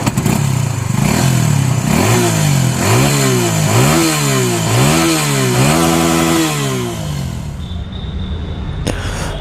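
A Suzuki V-Strom 250SX motorcycle engine idles, then is blipped through about five quick rising revs in a row, close and loud, before settling back to a lower idle.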